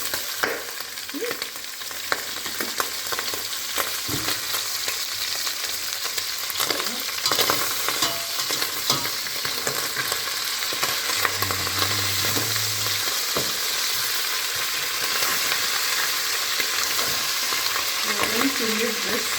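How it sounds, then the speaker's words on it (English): Steady oil sizzle and crackle from boiled beef frying in a pan, with occasional stirring clinks, continuous throughout. "our beef is done boiling, so I'm going to add in a little bit of the oil"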